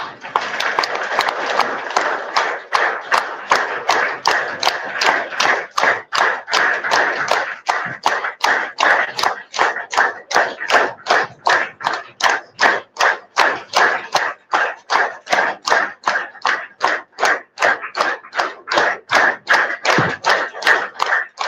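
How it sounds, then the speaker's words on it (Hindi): Bare hands clap in a fast, even rhythm, dozens of sharp claps in a row at close range, loud and unbroken from start to finish. "ताली मारेंगे।"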